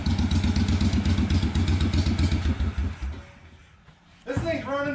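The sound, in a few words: vintage Italian motorcycle engine idling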